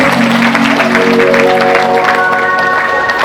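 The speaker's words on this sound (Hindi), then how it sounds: "जोरदार ताली से स्वागत करो" Audience applause at a devotional storytelling gathering about Krishna and Sudama: a steady wash of clapping that carries on for several seconds over sustained musical tones.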